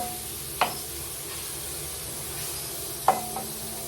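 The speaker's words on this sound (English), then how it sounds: "All I have to do is brown the meat." Ground meat browning in a pan, with leftover tomatoes cooked in alongside: a steady, moderate sizzling hiss broken by two sharp clinks of a utensil against the pan, about two and a half seconds apart.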